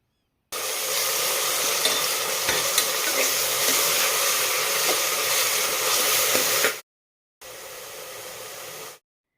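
Ground masala and onions frying in oil for a vegetable pulao, stirred, making a loud, dense, steady sizzle that cuts off briefly and then resumes for a short stretch.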